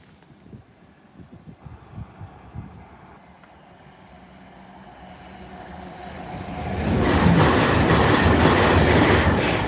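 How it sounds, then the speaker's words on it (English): An IEP passenger train approaches a level crossing, quiet rumble and clatter building until it passes close by with loud, steady rolling noise; no one speaks. "here's the IEP passenger service for the December timetable change"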